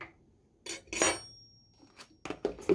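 Brownie batter with sugar being mixed in a bowl, a spoon scraping and clinking against the sides in a few separate bursts of stirring, close and fairly quiet, with no talking.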